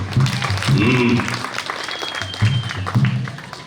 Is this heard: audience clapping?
yes